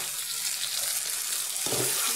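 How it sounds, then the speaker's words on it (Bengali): Water splashes into a pan of frying vegetables spiced with salt, turmeric, dried chilli powder, ginger, coriander and cumin. A steady close hiss and sizzle thickens with a burst of pouring water late on. "দিয়ে একটুখানি সামান্য জল দিয়ে দেবো।"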